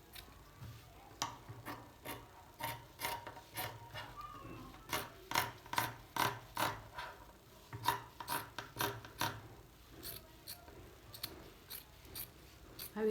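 Scissors snip through fabric pieces for a purse, giving a series of sharp, evenly spaced close cuts with a rasping edge and brief pauses between them, with no voices.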